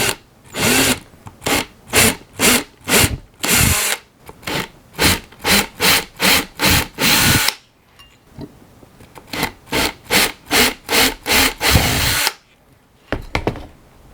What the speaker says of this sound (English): we're going to put that into the drill